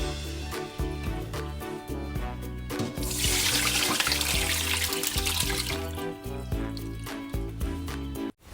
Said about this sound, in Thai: เราก็ตักมานอกน้ำเย็นเลยค่ะ